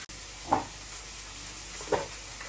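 Chopped onion and garlic paste sizzle in a pan for a shrimp malai curry, a soft steady hiss punctuated by two brief stirring scrapes, with no speech.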